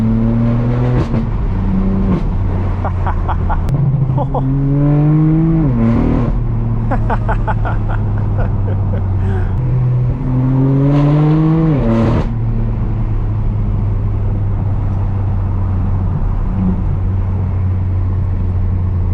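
A straight-piped BMW M4 F82 driven hard on mountain roads roars loudly, rising through repeated revving pulls with sharp shifts, then settling to a deep steady drone.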